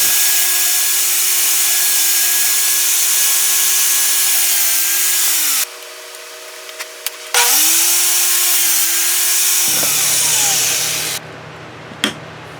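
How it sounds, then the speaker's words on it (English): A power saw cuts thin slivers from a segmented pen blank: a loud, steady motor whine with a grinding bite, spinning down twice between cuts before revving again. "So let's cut 2 slivers 3/8 to 1/2 inch length."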